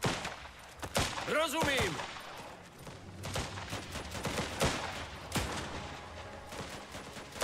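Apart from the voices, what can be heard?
gunfire in the video game Last Train Home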